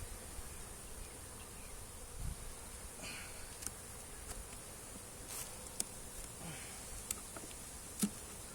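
A busy cluster of honeybees drones steadily at an opened beehive during an inspection, a low continuous hum filling the background with a few brief louder passes of individual bees close by.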